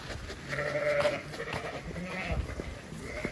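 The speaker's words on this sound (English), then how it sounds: "I thought I'd film the sheep in case they go west" Sheep on a farm bleat repeatedly, several wavering calls overlapping at close range, with some faint background voices.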